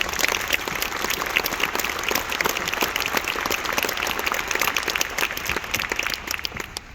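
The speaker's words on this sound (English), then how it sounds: "Please give them a round of applause." An audience claps at the Hyundai Metaplant America groundbreaking ceremony. The applause is dense, steady and sustained, filling the space without a break and tapering slightly at the end.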